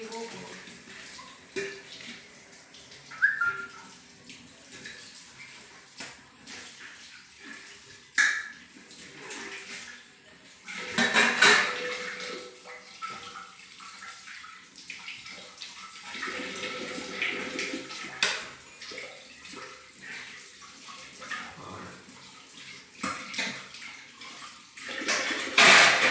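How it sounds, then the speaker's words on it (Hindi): Dishes washed under a running kitchen tap after dinner, with intermittent water splashes and clinking of utensils, moderately close, while someone talks over much of it. "अभी बर्तन साफ जल्दी से हो जाएंगे"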